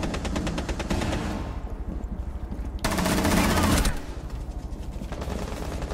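Rapid automatic gunfire in a video game, loud bursts of machine-gun fire that pause briefly and then resume, with voices talking in the background.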